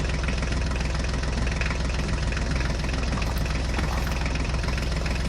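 A mini tractor engine runs at a steady, loud idle with low, knocking chug and constant vibration, close by with no voices.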